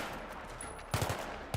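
Gunfire in the video game Battlefield 3, shooting at a fence: a quick cluster of several sharp shots in a short burst, then a single shot after a brief pause, over a low steady game background.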